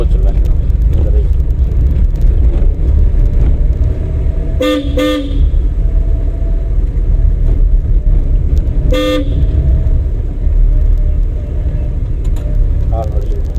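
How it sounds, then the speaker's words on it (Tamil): A car horn gives two short toots and then a single toot during a driving lesson on a town road, heard over a steady engine and road rumble inside the car. "ஹார்ன் அடிச்சிருக்கோம்."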